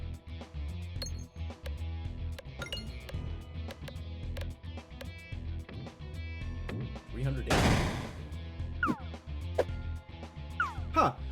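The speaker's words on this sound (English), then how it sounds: "Good explosions." Explosions in the roguelike video game Peglin burst out repeatedly amid a busy stream of clinking, chiming game effects, with a big broadband blast near the middle and several smaller pops after it.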